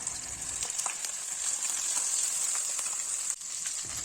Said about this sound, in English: Cook the masala till the oil starts separating from the masala